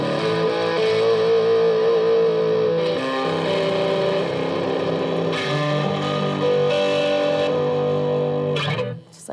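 A thrift-store Agile electric guitar played through effects in a home studio gives loud, sustained distorted chords with a chorus-like shimmer, ringing steadily and ending abruptly.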